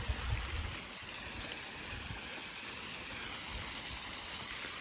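A small outdoor waterfall pours continuously, a soft, even broadband rush of falling water at a distance, with a few faint thumps at the start.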